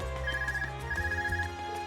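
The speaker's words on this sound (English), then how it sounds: "Is that your Arcus ringing?" An Arcus communication device rings in Trails of Cold Steel, a short electronic trilling ringtone repeating twice over soft background music.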